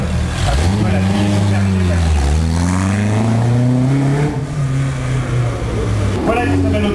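A small French CG race car pulls away from the start of the Tour Auto, its engine revving loudly and climbing through gears, with a rising then falling pitch as it passes close by, and a commentator talking over it.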